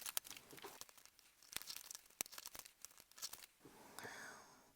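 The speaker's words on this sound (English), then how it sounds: "So now I will just cut it down to size and cut a tag shape out of it." Scissors cut laminated dried nature material into a tag shape, giving close, crisp snips and crinkling plastic rustles in an irregular run of sharp clicks and crackles.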